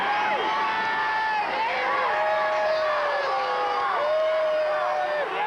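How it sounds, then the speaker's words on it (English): Edmonton fans cheer and whoop for a touchdown during a 1997 Labor Day CFL game at the Calgary stadium, a loud, sustained crowd roar with shrill whistles and shouts rising and falling throughout. "the contingent of Edmonton fans who made the trip to Calgary for this Labor Day game finally have something to cheer about"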